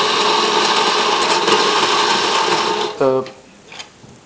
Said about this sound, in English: And we'll grind the coffee.